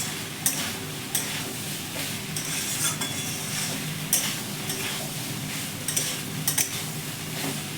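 Soybean chunks frying and being stirred in spiced oil in a pan, a close steady sizzle broken by repeated scraping and clinking strokes of the spoon.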